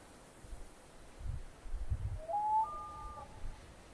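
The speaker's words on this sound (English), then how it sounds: "Owls, am I right?" An owl in the video game A Short Hike, on Hawk Peak, gives a faint, brief, slightly eerie tonal hoot over quiet ambience, with soft low thumps just before it.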